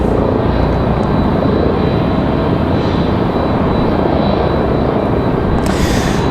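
An Endeavor Air CRJ regional jet arriving from JFK at Raleigh-Durham airport roars loudly and continuously, a broad, steady engine wash that never lets up across the whole stretch.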